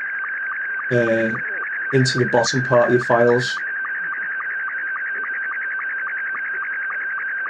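SSTV slow-scan television radio data tones, a steady warbling tone running throughout alongside a steady pulsed pattern, with a person talking briefly over the start before the tones continue alone.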